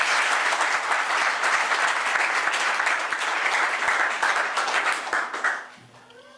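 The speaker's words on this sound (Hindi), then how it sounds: "आसमानी बाप के लिए ताली" A church congregation at a Hindi sermon breaks into loud, sustained applause for several seconds before it dies away.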